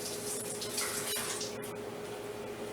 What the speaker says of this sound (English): I always like to rinse my onions off.